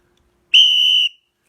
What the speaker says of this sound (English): This is why the whistle's so necessary.